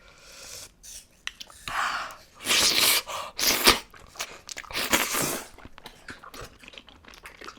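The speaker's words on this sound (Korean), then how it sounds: "무슨 소리야? 사과 소리야?" Someone bites into a crisp apple and chews it, close, loud crunches in a few irregular bursts with quieter pauses and breaths between, no speech.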